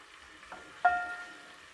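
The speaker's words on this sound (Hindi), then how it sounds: "अब इसमें लहसुन और अदरक का पेस्ट दोनों डाल दूंगी और इनको मैं हल्का सा फ्राई कर लूँगी" Garlic and ginger paste drops into hot oil in a cooking pot and starts to sizzle, with one soft hit followed by a sharper burst that settles into a quiet, steady fry.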